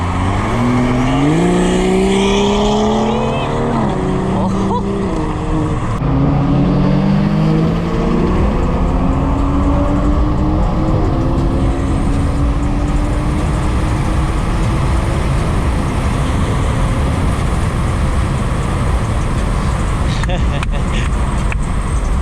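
A BMW 440i engine revving and shifting while driving, with rising and falling pitch, accompanied by road noise and people talking over it.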